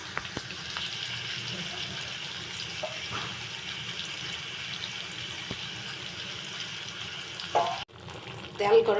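Mango pieces for pickle hit hot oil flavoured with bay leaf, giving a steady, close sizzle and frying hiss that runs throughout, with a clatter and a louder burst of sizzling near the end.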